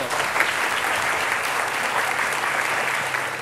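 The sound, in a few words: audience applause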